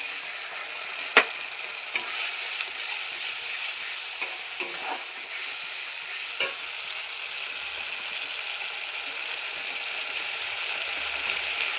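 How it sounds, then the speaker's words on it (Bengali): Cumin paste and tomato puree sauté in a pan for a Bengali fish curry, giving a steady close sizzle with a few sharp spoon clicks and scrapes as the mixture is stirred, and no voices. "জিরে বাটা দিয়ে আমি ভালো করে কষিয়ে নেব।"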